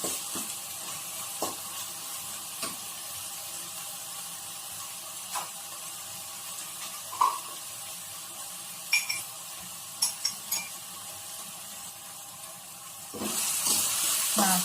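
Spice paste for sambal ikan kerisi sizzles gently in a pan over medium heat, a steady soft frying hiss broken by occasional clinks and stirring scrapes, swelling louder near the end.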